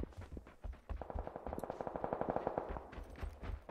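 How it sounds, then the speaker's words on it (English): Gunfire in the battle-royale video game PUBG, a rapid automatic burst of evenly spaced shots lasting a couple of seconds, somewhat distant and moderately loud, with a few scattered single shots around it. "Shots east."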